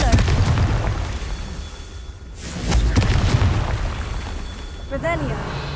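Loud booming explosions from the Confringo blasting spell in Hogwarts Legacy, one near the start and another around the middle, each followed by a rumbling tail, with game sounds and a brief voice in between.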